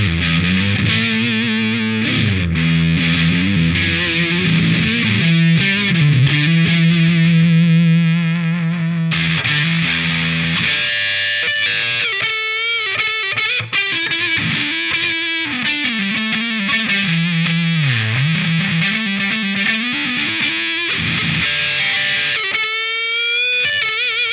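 An electric guitar runs through an EarthQuaker Devices Zoar dynamic distortion pedal with a three-band EQ, playing loud, continuous distorted chords and sliding single-note lines that bend and shift in pitch throughout.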